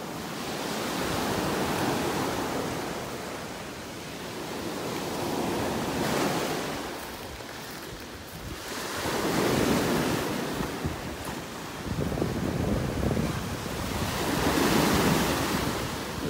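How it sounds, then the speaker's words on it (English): Ocean waves pounding a beach in North Naples, Florida, a loud rolling roar of surf that swells and breaks in repeated surges, with gusts of wind buffeting the microphone throughout. "Listen to the sound of those waves pounding on the beach."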